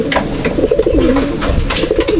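Racing pigeons coo close by in repeated low, throaty warbling phrases that roll on continuously with no talk over them.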